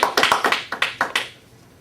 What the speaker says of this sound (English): So please, another applause.